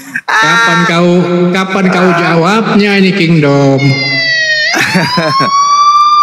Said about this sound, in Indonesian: Ambulans datang. Ambulans sudah datang.